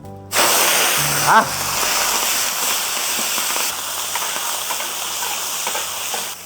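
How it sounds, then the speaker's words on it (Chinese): Chopped duck pieces hit very hot oil with ginger in a wok, bursting into a loud, steady sizzle that starts abruptly and holds, with a brief clatter early on and a short voiced exclamation. "我们把这个剁好的鸭子倒下去哈"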